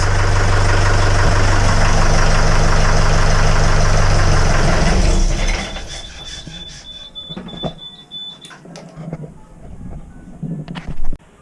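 A widebeam narrowboat's engine starts up after a fuel line repair, running loud and steady with a deep, continuous drone for about five seconds before cutting out, leaving quieter clanks and knocks.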